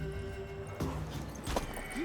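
A mare in The Witcher 3 moves with soft clip-clop hoofbeats and a brief whinny, heard faintly over a steady game ambience.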